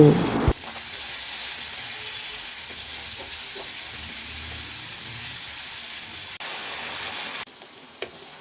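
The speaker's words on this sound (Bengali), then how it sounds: "চিংড়িগুলো খুব ভালো করে ভেজে নামিয়ে নিচ্ছি" Prawns coated in salt and turmeric frying in mustard oil in a wok, a steady loud sizzle and hiss running throughout, with a few faint clinks of stirring.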